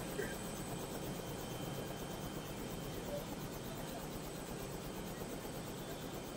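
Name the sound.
helicopter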